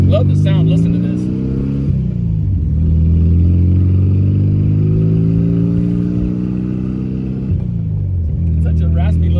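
A 1979 Volkswagen Beetle Convertible engine idles and revs with a raspy, buzzy air-cooled note that rises and falls steadily, loud and close, with someone talking over it.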